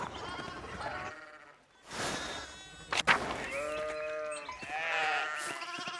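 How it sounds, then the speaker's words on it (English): Sheep bleat in the medieval adventure game Pentiment, several wavering calls one after another, close and clear over a faint buzzing background. "Sheep is what's down there."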